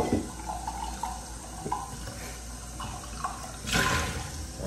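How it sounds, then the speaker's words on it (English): Tap water runs into a coffee cup, a soft, uneven splashing with a brief louder gush near the end. "Gonna fill it with water."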